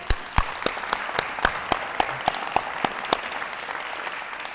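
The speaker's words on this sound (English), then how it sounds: "Can we clap for our pastor, please?" A church congregation applauds their pastor at a Sunday service, the clapping fairly quiet and sparse, with individual sharp claps standing out in an irregular rhythm.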